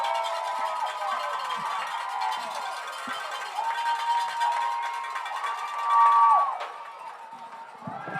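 Fired-up football crowd outside a press box window at a high school game between the Sheridan Yellowjackets and Sylvan Hills Bears, a steady distant roar with cowbells ringing through it, rising briefly before settling.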